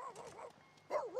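A dog in The Sims 3 video game gives two short bursts of whining, yipping barks separated by a brief pause, near and fairly loud with no talk over them.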